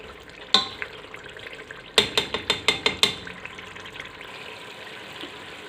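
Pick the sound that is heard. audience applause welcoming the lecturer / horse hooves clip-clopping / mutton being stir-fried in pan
mutton being stir-fried in pan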